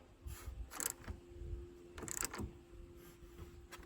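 A wrench tightens the battery terminal nut on a Toyota Tundra, giving faint, close ratcheting clicks and metallic ticks in a few short bursts.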